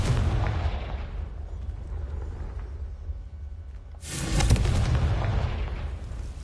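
A Confringo fire spell explodes in the video game Hogwarts Legacy. A rumbling blast fades down, then a second loud, broad burst erupts around the midpoint and slowly trails off. No voices.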